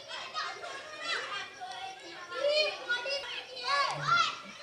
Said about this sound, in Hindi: कितना चिल्ला रहे देखो।